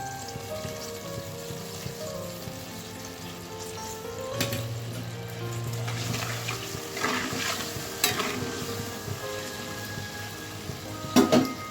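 Mango chutney cooking in a pan after water and sugar go in, a soft bubbling sizzle with a spoon stirring and scraping in bursts and a few sharp clicks of the utensil, close and without talk.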